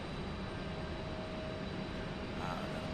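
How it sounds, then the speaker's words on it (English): American Airlines Boeing 737 departing Raleigh-Durham International, its jet engines a steady, fairly faint distant roar holding constant through the clip. "Early rotation for this 737."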